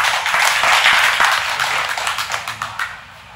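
Crowd applause greets a presidential office spokesperson at a village gathering in Taiwan, a loud, dense patter that fades into scattered claps near the end.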